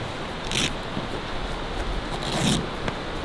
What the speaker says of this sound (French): Et puis là, une fermeture éclair.